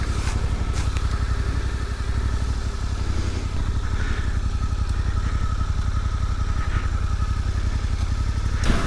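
Suzuki V-Strom 800RE motorcycle riding along country lanes, its engine a steady, loud, continuous drone throughout with faint clattery mechanical texture and no talking.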